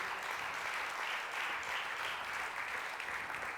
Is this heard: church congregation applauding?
yes